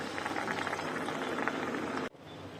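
Chillies coated in batter for mirchi vada sizzle and bubble steadily in hot oil, a dense continuous frying hiss that cuts off abruptly near the end.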